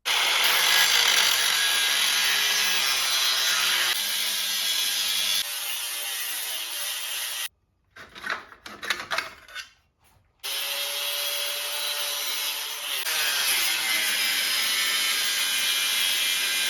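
A Sawzall reciprocating saw cuts off the exhaust pipes of a 1989 Harley-Davidson Evo Electra Glide. It makes a loud, continuous rasping buzz, broken once by a short pause with a few clunks before the cutting resumes.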